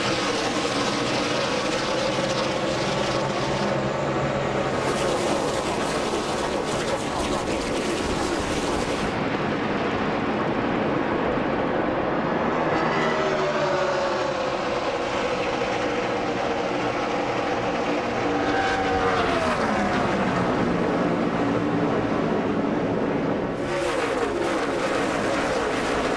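A pack of NASCAR stock cars roars through the start of the 2006 Coca-Cola 600, a loud, continuous engine drone with pitch rising and falling as cars sweep past, with broadcast commentary underneath.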